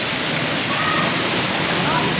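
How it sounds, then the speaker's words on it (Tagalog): A river flows steadily behind a resort in Rodriguez, Rizal, as a dense, even rush of water that fills the whole moment. "Dun sa bandang likod niyan, ilog yan."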